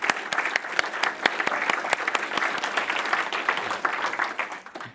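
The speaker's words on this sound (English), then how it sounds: "if you could all join me in giving our sponsors a hand of applause" Conference audience applause for the sponsors of an APL programming competition, a moderate crowd of individual claps with distinct sharp hits, fairly close and steady before tapering off.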